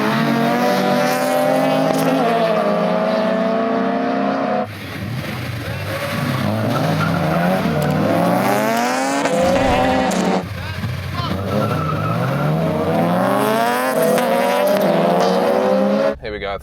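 A race car engine roars loudly and steadily, revving up and down through gear changes, with brief tire squeals mixed in.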